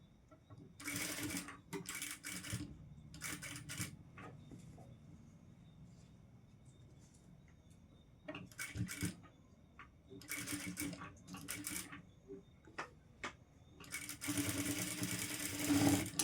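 A sewing machine stitches a princess-cut boat-neck designer blouse in repeated close, rapid bursts of needle clatter, stopping and starting between short seams, with longer runs toward the end.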